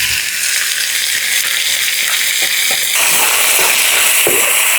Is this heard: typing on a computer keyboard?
no